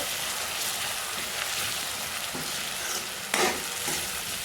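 Crushed peanuts stirred into a green corn snack mixture in a pan over low heat, a soft steady sizzle with occasional scraping strokes and one sharper clatter near the end.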